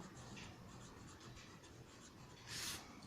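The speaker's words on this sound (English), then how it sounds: "So we are going to write here banana." Pen or pencil writing the word banana in cursive on paper, a soft continuous scratching of linked strokes with one brighter, louder scratch near the end, no talk.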